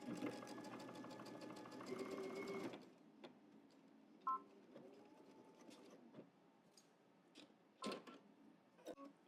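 A sewing machine stitches fabric for workout shorts in a rapid, steady whir for about three seconds, then stops, followed by quiet scattered clicks and handling sounds.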